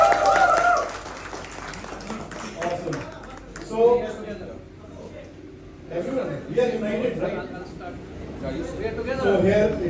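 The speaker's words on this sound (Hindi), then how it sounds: "जो भी यहाँ पर आएगा उसके लिए जोरदार तालियां होंगी" Crowd at a superbike riders' meetup cheers and claps for someone stepping up, with the clapping mixed under shouting and chatter that comes in bursts.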